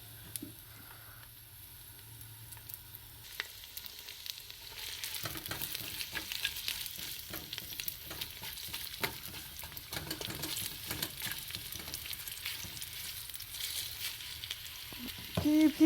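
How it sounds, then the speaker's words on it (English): Onions frying in half a cup of oil in a pan for gobi keema, a quiet start building to a steady close crackling sizzle with scraping stirs throughout. "First we put half cup of oil. And then we put inside onions."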